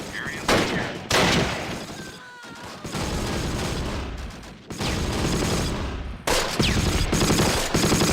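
Heavy gunfire from the World War II video game Close Combat, set in the Allied liberation of Mortain in 1944: loud, dense bursts of automatic fire with sharp reports, nearly continuous with brief breaks between volleys.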